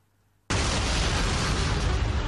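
A sudden, loud explosion in the video game Resident Evil 3 Nemesis bursts out of near silence and holds as a dense, roaring blast for about two seconds.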